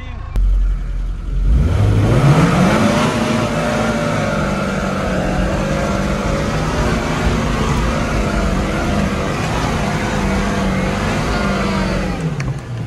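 A Mahindra Thar off-road jeep, stuck on rough ground in Rajasthan, revs hard and holds a loud, steady engine drone for several seconds, the pitch climbing early then sustaining near the microphone before easing off at the end.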